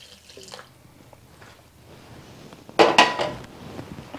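Ingredients for a lime jello salad being poured into a dish and stirred, giving quiet clinks and small pours, then a louder burst of splashing and scraping toward the end, close up with no talking.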